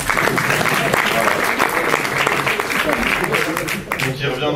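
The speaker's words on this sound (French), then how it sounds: "ils ont tort d'applaudir" A lecture hall audience at a talk on bee decline applauds, with dense, loud, continuous clapping throughout and voices mixed in.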